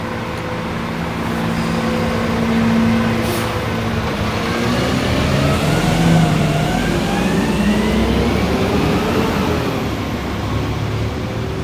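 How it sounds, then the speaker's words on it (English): A loud truck drives past on a Brooklyn street in Williamsburg late at night, its engine roaring steadily close by for several seconds and swelling as it passes, with no one talking over it. "Oh, this truck is loud."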